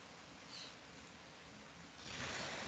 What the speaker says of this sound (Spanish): no sé si me escuchan porque está lloviendo bien fuerte